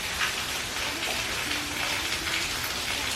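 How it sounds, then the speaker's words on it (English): Rain falls steadily outside on a back porch ahead of an approaching hurricane, making a soft, even hiss with no break and no voices. "As you can see, the rain is already coming,"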